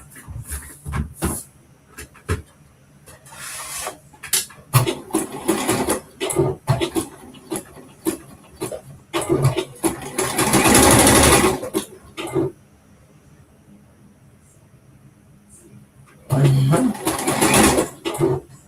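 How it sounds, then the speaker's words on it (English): A sewing machine stitches a top in several separate bursts of rapid whirring, the longest near the middle and another at the end, with a voice talking between runs. "And I'm going to sew this part down."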